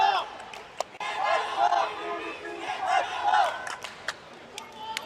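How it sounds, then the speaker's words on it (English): Rival Philippine and Chinese crowds at a pickleball match shout and cheer in rhythmic chants, loud and massed, with a voice over the top and sharp claps or bangs cutting through. "Here the Philippine crowd shouting on one side with the Chinese crowd shouting on the other side"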